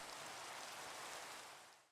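Rain falling in the video game Minecraft, a steady soft hiss of downpour, faint and even, fading out at the end.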